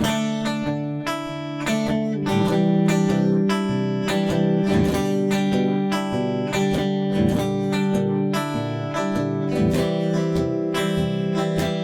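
Continuous acoustic guitar strumming of the verse of a song, with firm, rhythmic down-up strokes and full ringing chords, steady and fairly loud throughout.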